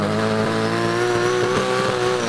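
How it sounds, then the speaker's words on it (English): A Nissan R32 GT-R with line lock does a burnout, its engine held at a loud, steady high-rev drone while the tires squeal and the note wavers slightly, with no talk over it. "He even does the burnouts the way we remember them from the old days in Japan."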